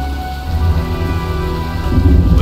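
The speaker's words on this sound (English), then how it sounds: "looks like a storm's coming" A thunderstorm in the video game Heavy Rain: steady heavy rain hisses over a deep, continuous rumble of thunder that swells louder toward the end, with no voices.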